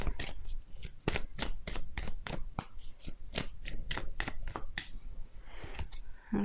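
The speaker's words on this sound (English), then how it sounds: "Let me pull another card for this section." Tarot cards being shuffled, a fast, close, crisp run of riffling snaps in steady rhythm, ending with softer handling as a card is drawn; no talking.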